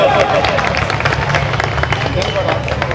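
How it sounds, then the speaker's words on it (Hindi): An audience at a gathering applauds to welcome an arriving advocate, dense clapping and crowd murmur running throughout, with someone talking over it. "एक बार जोरदार तालियों से आप इनका स्वागत करें, जोरदार तालियों से।"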